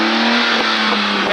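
A BMW 328i fitted with a custom exhaust revs loudly and close by, a steady strong engine drone with a brief rise in pitch, no talking over it.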